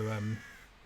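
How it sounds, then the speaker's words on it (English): A crow gives a single loud, harsh caw overhead near St Helens on the Isle of Wight, then fades into faint outdoor ambience. "You can hear the crows up there flying around."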